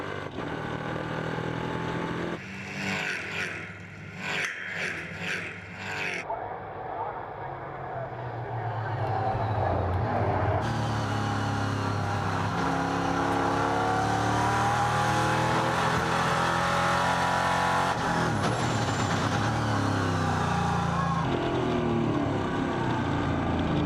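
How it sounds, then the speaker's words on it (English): NASCAR race cars at Brands Hatch in the Euro series, engines roaring loud and steady as they lap the track, with a brief choppy stretch early on before a sustained, close drone of multiple cars. "now let's hear from the sounds of NASCAR"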